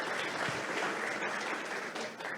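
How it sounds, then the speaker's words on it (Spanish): An audience applauds steadily and evenly throughout a Bancolombia talk on the impact of trends on society, the dense clapping fairly faint and distant, with no voices over it. "Quisiera que les diéramos un aplauso"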